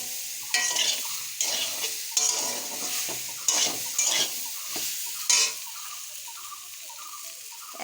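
Mango pickle is stirred in a pan, producing a series of rhythmic scraping strokes over a bubbling sizzle; the strokes stop near the end, leaving a quieter simmer, with no talk.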